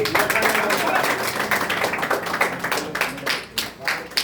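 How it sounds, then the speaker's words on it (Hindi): A crowd claps steadily and densely throughout, honouring 2021 topper Shahnawaz with a medal and shield at a toppers' award ceremony. The clapping is loud and close and never pauses. "शाहनवाज के लिए बनती है एक जोरदार ताली"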